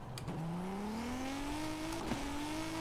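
A BMW M5 engine races in Forza Horizon 5, its tone climbing steadily as it accelerates hard through the gears, loud and close with a brief tire squeal, and no talking.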